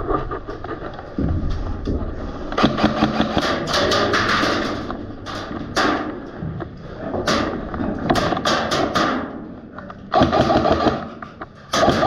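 Gunfire at Bing Field during an airsoft or paintball game: rapid bursts of shots in repeated volleys, loud and fairly close, with short pauses between strings.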